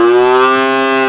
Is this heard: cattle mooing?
yes